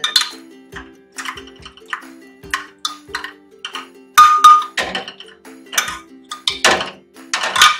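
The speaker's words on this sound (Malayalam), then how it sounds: "ഞാനപ്പോ ഈ പൊട്ടറ്റോയും ബീട്രൂട്ടും ഒന്ന് ഉടച്ചു കൊടുക്കുന്നുണ്ട് കേട്ടോ" A utensil works through cooked potato and beetroot in a metal pan, giving a series of irregular clinks, taps and scrapes, close and moderately loud, with brief quiet gaps and a faint steady hum beneath.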